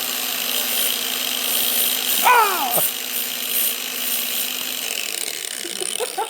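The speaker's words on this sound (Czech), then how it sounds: "Pak zapnete flexu." A steady high-pitched angle grinder whine runs throughout as it grinds burnt bread, with a brief squealing sweep partway, then the motor tone drops away near the end.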